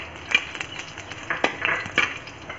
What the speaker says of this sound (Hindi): जैसे ही हमारा घी गरम होता है हम इसमें डालेंगे जीरा, और जो हमने सौंफ ली थी उसे भी डाल देंगे इसमें।